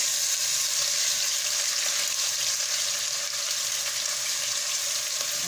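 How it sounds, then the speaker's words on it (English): Onion sizzling in a hot frying pan, a dense, even hiss of frying that stays loud and unbroken throughout, with no voices. "just put the onion right now"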